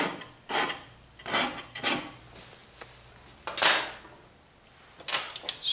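A metal palette knife scrapes paint across canvas in a landscape painting, with about six rasping strokes close by, separated by short pauses.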